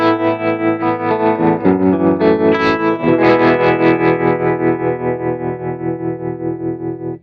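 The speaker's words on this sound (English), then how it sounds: "I'm going to bypass this drive, and I'm going to add a tremolo block" Electric guitar chords pulse through an Axe-Fx II tremolo effect at default settings, the volume swelling and dipping in a steady rapid rhythm that carries through sustained, slowly fading notes.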